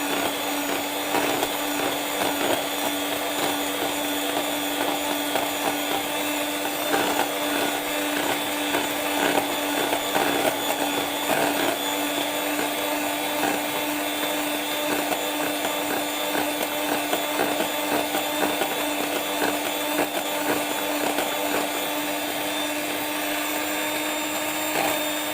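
Electric beater whipping a mango ice cream mixture at raised speed, a steady motor whine with a strong constant hum and gritty scraping texture that runs unbroken and fairly loud throughout, with no talking.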